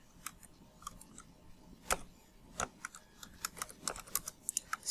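Keys clatter on a computer keyboard as Java code is typed, irregular clicks and short bursts of taps growing denser toward the end, close and clear with no talking.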